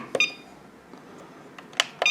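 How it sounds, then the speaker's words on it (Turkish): A Revolectrix GT Eight battery charger gives short electronic beeps on button presses, a couple near the start and a quick pair near the end, crisp and close against a quiet background. "buton tıklamalarında bip sesi."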